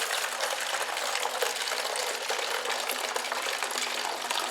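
Steady gush of cold brew coffee being poured into a 2-liter carbonated water container, continuous and close, with no talking.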